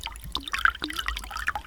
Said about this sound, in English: run them under some water